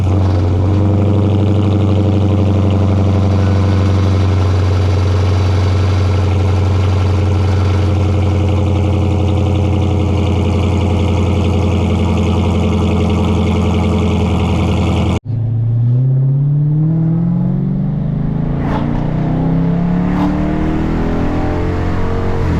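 A Dodge Charger with an SLP Loudmouth cat-back exhaust idles with a deep, loud exhaust drone, then cuts and revs up sharply in a rising roar, with a couple of throaty blips.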